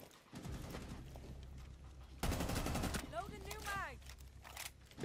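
Rapid bursts of gunfire in Rainbow Six Siege ranked play, a quick fusillade of shots rising to a louder volley midway, with a voice talking faintly underneath.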